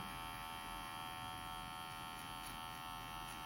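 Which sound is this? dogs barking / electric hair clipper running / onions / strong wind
electric hair clipper running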